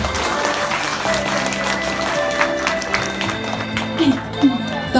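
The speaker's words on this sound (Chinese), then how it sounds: "给慧茹一个掌声好不好？" Wedding guests applaud the bride with moderate, scattered clapping that runs throughout, mixed with background music and a few sharper claps near the end.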